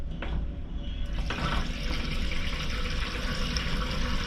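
Rinse water gushes steadily out of a motorhome toilet cassette, a loud, continuous close-up splashing flow that runs without a break.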